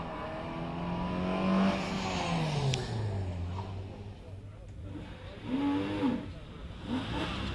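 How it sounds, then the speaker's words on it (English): A Porsche 944 race car climbs the hill at a Prescott hillclimb event, its engine droning and rising and falling through the gears at middle distance, under a commentator's voice throughout. "And Justin Mather almost at the finish line, followed by Michael Brown with the Porsche 944."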